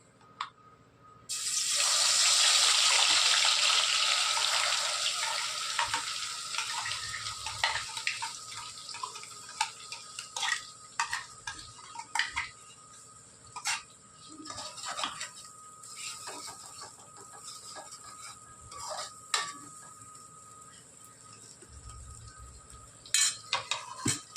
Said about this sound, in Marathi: मसाला भाजलाय तेल सुटलं बघा